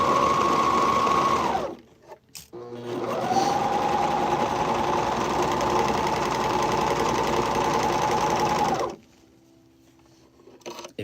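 A Juki MO1000 air threader serger runs in two long, steady bursts of dense mechanical whirring, the second lasting several seconds before stopping abruptly into near silence.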